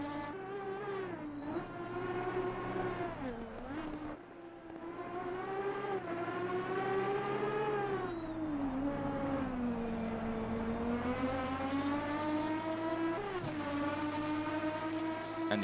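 Aston Martin Vantage GT3 V12 race car engine in a racing video game on the Nordschleife, a loud continuous harmonic howl that rises and falls with gear changes and revving throughout, with no talk.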